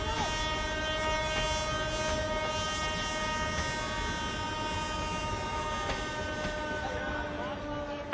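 Train at a small local station a few kilometers from the village of Anji, on the outskirts of Shahabad, heard with a steady rumble, sustained horn-like tones and passing metallic noise throughout, some voices in the background.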